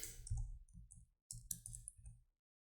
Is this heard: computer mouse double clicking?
yes